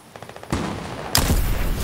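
Video game gunfire in Fortnite Season 8, a quiet tapping run of shots followed by two loud bursts of sustained firing, close and harsh, with no talk over them.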